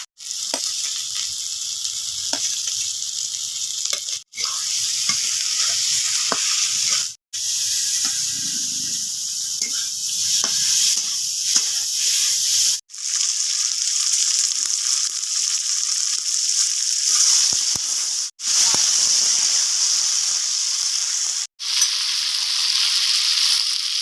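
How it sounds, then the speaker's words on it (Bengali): Fried potato pieces sizzle loudly in a pan of turmeric-and-salt spice paste, a dense steady frying hiss broken by several brief pauses and the scrape of stirring, close up with no talk. "এরপরে আমি দিয়ে দিব এখানে ভাজা আলু।"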